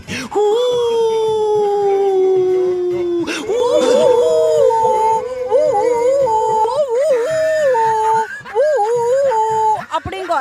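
A human voice imitates a dog's long, wavering howl, loud and close, the mournful pitch sliding up and down for several seconds.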